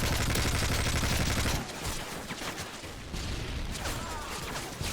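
A SPAS-12 shotgun and other weapons firing in Call of Duty: Modern Warfare 3: a dense burst of rapid gunfire, then scattered shots and combat noise that continue beneath it.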